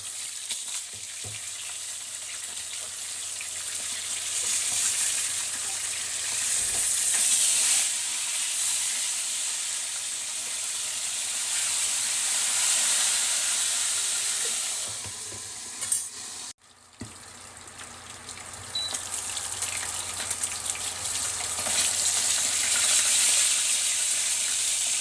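Tilapia frying in a pan, a steady loud sizzle and hiss running throughout with a brief dip near the middle, no voices.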